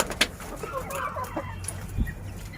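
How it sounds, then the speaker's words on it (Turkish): Backyard chickens on a terrace garden cluck softly while pecking at kale, with a few sharper squawks over quiet surroundings and occasional faint human voices. "Kara lahana. Yesinler tavuklar."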